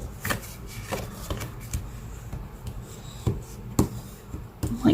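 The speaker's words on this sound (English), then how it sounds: "I like using my bone folder, it gives the card a nice good crease." A bone folder scraped along the fold of a handmade black-and-white sympathy card, giving a series of short, close, dry rubbing and tapping strokes at an uneven rhythm, with no voices.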